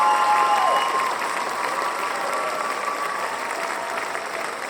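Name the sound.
applause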